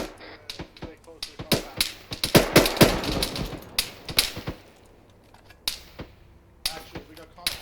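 Scattered gunshots from the ArmA 3 co-op military game, sharp irregular reports and short bursts at varying distances, with voices talking intermittently between the shots.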